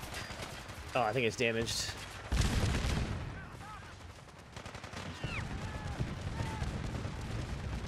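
Turret gunfire in Fallout 4 bursts in the middle of a game scene, mixed with other game sounds, while someone talks over it.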